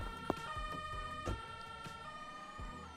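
An ambulance siren wails in the Roblox game Emergency Hamburg, a steady tonal warble held throughout at moderate, slightly distant level, with no speech over it.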